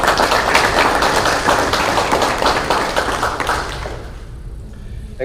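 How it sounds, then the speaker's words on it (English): A graduation crowd applauds the parents with dense, steady clapping from many hands, loud and sustained for several seconds before thinning and fading out near the end. "let's give our parents a round of applause"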